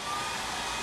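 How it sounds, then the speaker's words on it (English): A hair dryer blows steadily to dry wet paint at a paint-and-sip class, a loud, even broadband whoosh with no talk over it. "Nobody likes to hear the hairdryer"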